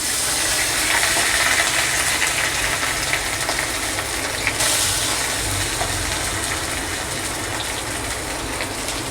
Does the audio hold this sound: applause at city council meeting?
no